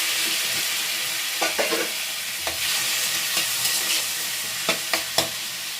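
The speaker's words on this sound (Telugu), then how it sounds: "టమాటా పండ్లు అయితే వేస్తూ ఉన్నాను" Chopped tomatoes frying in a pan for a gurugaku (leafy green) curry, with a steady close sizzle throughout and a few scattered stirring clinks of a utensil.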